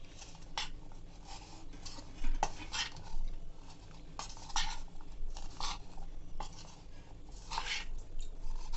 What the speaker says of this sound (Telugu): 1 స్పూన్ ఏమో మైదా ఇలా వేసుకొని వీటిని కలిపి పెట్టుకోవాలండి